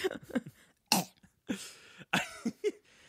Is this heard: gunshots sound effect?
no